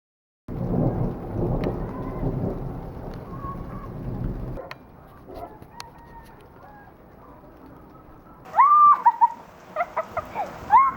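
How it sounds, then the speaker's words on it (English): A thunderstorm with rain and hail roars loudly for several seconds, then drops to a quieter patter with a sharp crack of nearby thunder, while birds or a rooster call out clearly toward the end. "I like a good storm."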